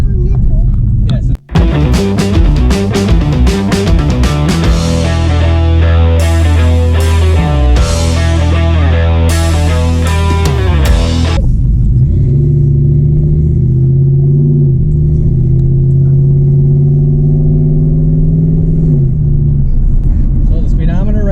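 A Ford Ranger 5.0 truck roars loudly with a dense, steady engine drone, rising in revs and then settling into a lower sustained rumble, with no talk over it.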